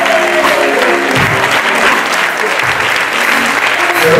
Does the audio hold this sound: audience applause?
yes